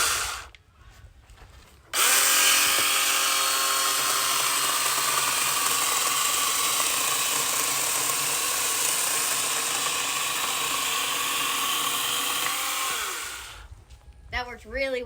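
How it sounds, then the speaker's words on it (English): Small electric chainsaw cutting through a camphor log limb, a loud, steady high-pitched whine held for about eleven seconds, with quieter sounds before the cut starts and after the motor stops. "this little chainsaw is perfect for your small projects, but I'm going to finish this limb off with the big one"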